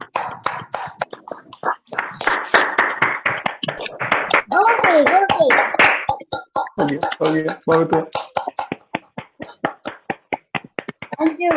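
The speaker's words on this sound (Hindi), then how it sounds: "आज के इस अमेजिंग सेशन के लिए सुनील सर के लिए एक जोरदार ताली" Scattered clapping from an online audience for a Winfinith product session, sharp irregular hand claps mixed in with a host talking over them, rising and thinning throughout.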